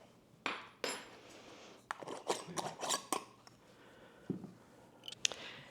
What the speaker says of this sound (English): we're just going to mix that all up together